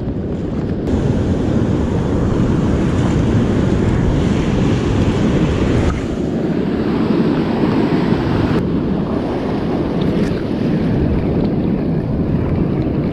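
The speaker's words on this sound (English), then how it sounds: "the waves are breaking, but there's a gap in the break." Ocean surf breaks steadily on a Northern California beach, a loud continuous wash of rolling waves mixed with wind rumble on the microphone, with no voices over it.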